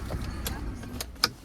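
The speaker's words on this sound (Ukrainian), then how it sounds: "Зараз ми автомобіль заглушимо." A Kia Sorento 2.2 diesel's low engine rumble drops away partway through as it is switched off, followed by a few faint clicks and a sharp tap in the quiet cabin.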